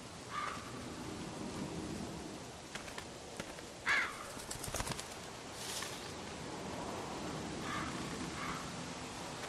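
Crows caw a few times at a distance in The Walking Dead video game, faint calls scattered over a quiet outdoor ambience with a soft rustle.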